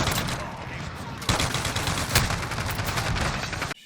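Automatic gunfire rattles in the video game Modern Warfare 2, loud and dense, with a quieter stretch followed by a sustained, louder burst of rapid shots and no talk.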